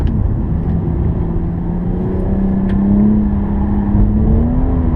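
A 2017 BMW M240i drifting sideways on a slippery racetrack at Killarney International Raceway, its engine droning loud and close with a rising, wavering pitch and faint tyre squeal, continuous throughout.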